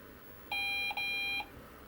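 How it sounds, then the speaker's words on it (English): Two short electronic beeps in quick succession come from an IBM PCjr computer during startup after RAM chip testing, crisp and close in a quiet room. "And 2 more beeps."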